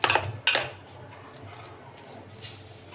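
A metal spoon scrapes and clinks against a bowl of hot mashed taro, giving two sharp scrapes at the start and then softer, fainter scraping and clinks.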